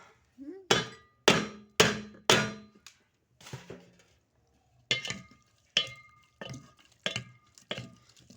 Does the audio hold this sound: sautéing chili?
yes